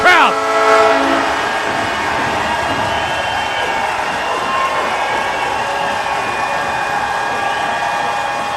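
A junior hockey crowd roars after a Penticton Vees goal against the Alberni Valley Bulldogs. A loud, blaring goal horn opens the moment, then a sustained arena cheer rolls on steadily behind it.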